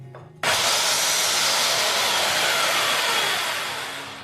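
A hammer drill runs with spin mode on, starting abruptly and holding a loud, steady high-pitched whir with grinding texture that slowly eases near the end.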